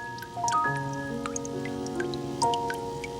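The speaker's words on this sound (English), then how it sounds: "Water drips down through ancient mine shafts." Water drips down through ancient gold-prospecting mine shafts, a series of clear, ringing drops landing at an irregular pace and echoing in the enclosed space, close and distinct with no talk.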